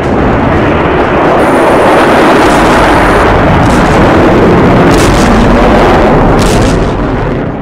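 A loud, continuous roar of heavy blasts and rumbling booms fills the whole stretch, with no letup.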